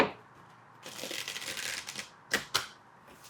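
Tarot cards being shuffled by hand, a soft riffling burst lasting about a second followed by a few sharp taps as the deck is squared, close and fairly quiet.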